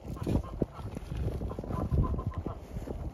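Farm chickens clucking in a rural Turkish village yard, a scattered run of short clucks with soft knocks and rustling around them, fairly close.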